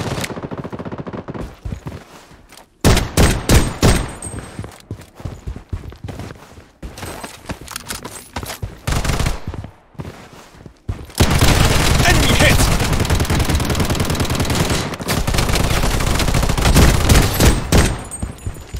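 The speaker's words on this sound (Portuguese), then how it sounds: "Tem um cara atirando aqui, né?" Gunfire in the Project BloodStrike shooter game, with loud, close bursts and single shots from a shotgun and automatic weapons, then a long sustained stretch of rapid fire, with some talk in between.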